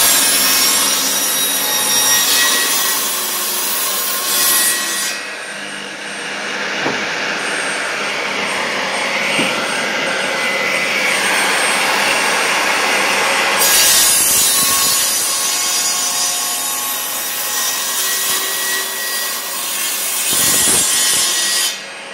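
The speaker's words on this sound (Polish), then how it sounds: "To jest piła Bosch." A Bosch power saw cuts through dried wood loudly and continuously, its pitch dipping as the blade bites, then rising again when it frees up.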